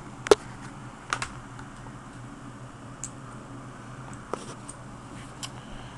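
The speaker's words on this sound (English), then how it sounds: "If you can pop out the ammunition with one hand, you hear that good little click" A few sharp, small clicks scattered over several seconds, crisp and close against a quiet background, as rifle cartridges snap free from an AK-47 magazine one at a time.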